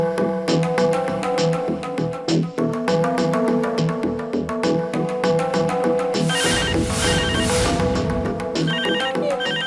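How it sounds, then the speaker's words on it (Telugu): A telephone ringtone plays steadily and loudly throughout as a tonal, repeating melody, with a brighter burst of music swelling in toward the end, in a Telugu TV serial scene. "ఫోన్ తీయమ్మా"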